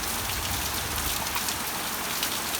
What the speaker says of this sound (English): You can see the rain on the pond.